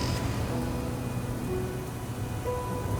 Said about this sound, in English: Another night with no sleep gives way to another day of torrential rain.